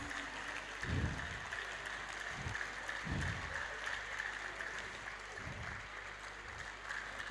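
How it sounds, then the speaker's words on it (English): Steady audience applause at a Rotary International youth leadership (RYLA) event, a sustained, moderately distant wash of clapping with a few low thumps underneath. "Let's keep clapping till she gets here."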